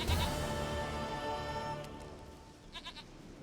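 A goat in Witcher 3 bleats in one drawn-out, wavering call up close, followed later by a short, quieter bleat, set over a steady game ambience with no talking.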